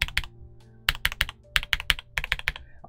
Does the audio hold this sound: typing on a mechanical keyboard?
yes